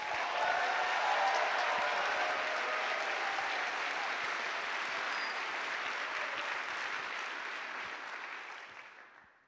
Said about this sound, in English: Can you guys give a warm round of applause for Fo?